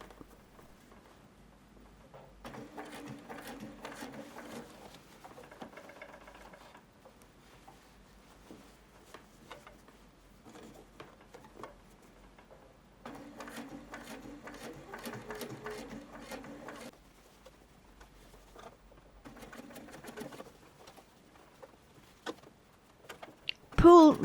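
Domestic sewing machine topstitching a shirtwaister dress sleeve from the underarm, running in several bursts of rapid close-up needle chatter separated by quiet pauses, ending with a sharp handling knock.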